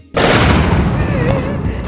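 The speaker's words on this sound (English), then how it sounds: "One of the Gerudo's best weapons is their cannon" A Gerudo cannon fires in Zelda: Tears of the Kingdom, a single loud booming blast that bursts in abruptly and rolls on with a long, dense rumbling decay.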